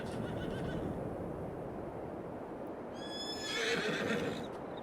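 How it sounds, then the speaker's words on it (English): Video game horses in Farming Simulator 22 whinny and neigh loudly over a steady rumbling background, with a burst of shrill neighs toward the end. "Noisy horses."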